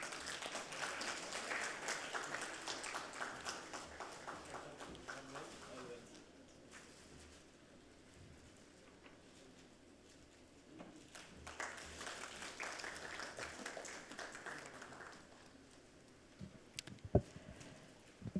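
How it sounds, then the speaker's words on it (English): Applause from the audience at a city forum, a soft, distant patter of clapping that swells, thins out midway, then builds again, with faint voices underneath. "Please give him a big round of applause,"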